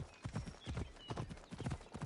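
Hoofbeats of a llama mount ridden in Assassin's Creed Odyssey, a steady rhythmic clip-clop of padded footfalls repeating about every half second, close and moderately loud with no talking.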